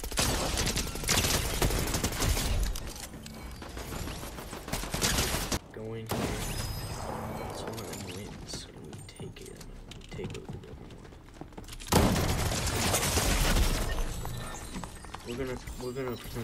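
Rapid bursts of gunfire from a Fortnite match ring out in loud volleys near the start and again toward the end, with players talking over the shooting.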